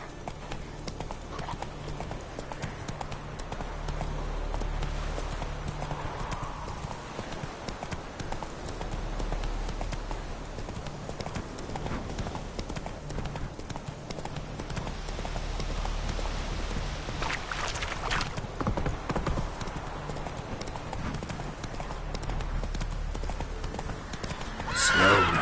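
A horse gallops with rapid rhythmic clip-clop hoofbeats and lets out a whinny in the video game Witcher 3, with a voice urging it on over the steady pounding.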